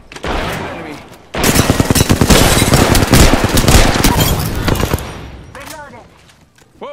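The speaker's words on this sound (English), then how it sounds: "Shots fired and they're hitting." Loud, rapid bursts of automatic gunfire in the battle-royale game Apex Legends, dense and close for several seconds with short pauses, then tapering off as a voice talks briefly near the end.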